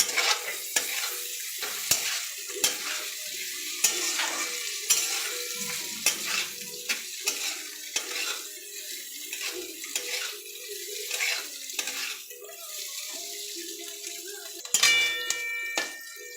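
Cashews and raisins fry in a pan for fried rice, a continuous soft sizzle broken by frequent scraping stirs and light clinks of a utensil against the pan, close by.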